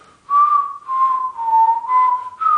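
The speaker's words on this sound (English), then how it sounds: "At first, you might try to whistle something simple like this, and it's not going to sound like that." A beginner's unsteady whistle, wavering in pitch and breaking into uneven breathy phrases with short gaps, close and clear with no talk.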